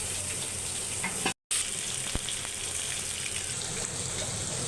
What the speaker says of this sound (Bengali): পেঁয়াজ দিলাম কড়াইয়ের মধ্যে